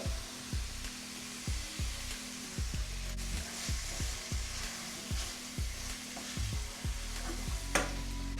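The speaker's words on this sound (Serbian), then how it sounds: "I sada ovo pržimo dok se lepo sve zajedno ne uprži" Cabbage sizzles steadily in a pan while a utensil stirs and scrapes in a regular rhythm, roughly once a second.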